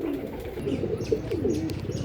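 A Star Kalanka pigeon coos close by in a steady run of soft, rolling low calls, with faint chirps in the background and no speech.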